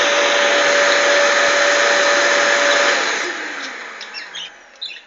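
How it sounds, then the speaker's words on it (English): A vacuum cleaner runs loud and steady with a constant whine, then cuts off around the three-second mark and winds down to quieter background with faint chirps. "I thought you were hoovering."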